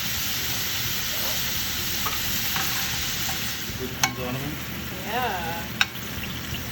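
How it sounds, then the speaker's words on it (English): Morels, asparagus and ramps sautéing in olive oil in a pan, a steady broadband sizzle with occasional stirring clinks and brief exclamations, a short spoken word heard over it. "Now it's time to saute your ingredients in olive oil"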